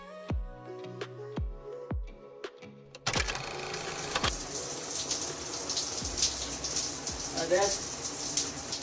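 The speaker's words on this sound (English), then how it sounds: "That's hot water for the most part, but not scalding water." Several sharp taps and knocks give way to hot shower water gushing steadily, a bright broad rush that continues at even strength with faint splashes and bottle handling underneath.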